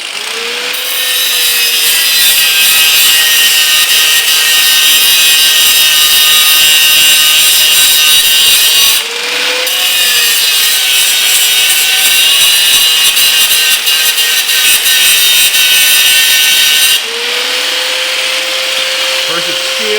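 A grinder bites into a cast iron front A-arm or spindle part for a K24 prototype racer, a loud sustained whine in three long passes separated by brief pauses where the motor pitch shifts.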